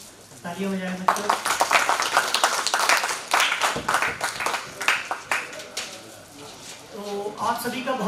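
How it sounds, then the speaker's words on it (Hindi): Children clap at a judo coaching workshop in India as a national judo coach is welcomed, scattered uneven claps rising into a burst and fading, with voices talking over and around them. "तालियां बजाएं बच्चों।"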